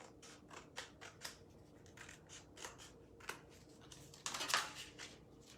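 Scissors trimming around a metal transfer sheet, giving a string of short, quiet snips at an uneven pace, with a louder, denser cut near the end.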